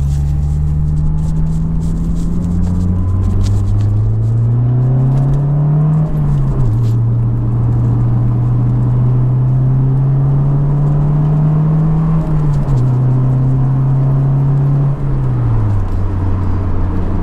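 A Honda S2000 AP1 sports car engine drones steadily while driving, its pitch stepping up and dropping back through gear changes, loud and close with no talking.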